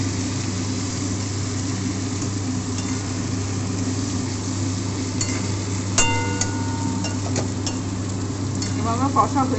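Koi fish (climbing perch) frying in hot oil while being stirred, a steady loud sizzle with scraping stirs and occasional clinks of a utensil against the pan, over a low background hum.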